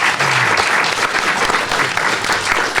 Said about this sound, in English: let's a big round of applause for everyone